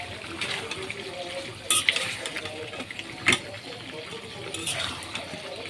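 Fish curry stirred in a pan, with scrapes and clinks of the spoon against the metal over a low background sizzle; a few louder knocks stand out, close and moderately loud.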